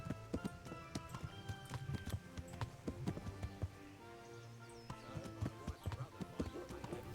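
Horse hooves clip-clop in the video game Kingdom Come: Deliverance, a steady rhythm of hard hoof strikes with game music playing underneath.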